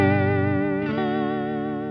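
Sustained guitar chord through a Meris Mercury X reverb pedal set to pre plus dry routing, with a warbling vibrato and a thick chorus-like shimmer; the tone shifts about halfway through and carries on steadily, with no talking.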